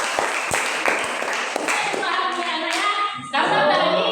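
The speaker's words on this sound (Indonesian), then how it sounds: "Oke, tepuk tangan untuk Tiara." A class claps for a student named Tiara, a burst of close, fairly loud handclaps with some voices over it, thinning out before steady chatter.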